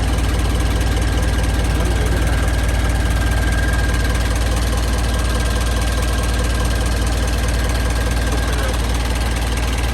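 Six-wheel truck engine with a big turbo revs and runs with a loud, dense, steady rumble and roar. Voices talk beneath it.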